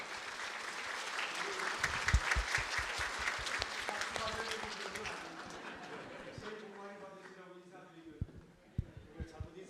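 A church congregation in a two-level sanctuary at a New Year's Eve service claps warmly, loud at first, then fades as a voice speaks over the thinning applause.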